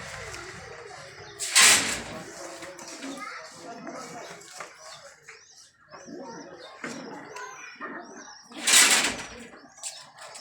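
Two bursts of wings flapping as flying pigeons come in close to land, with pigeons cooing and voices talking throughout, in Faisalabad.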